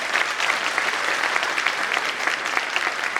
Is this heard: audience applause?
yes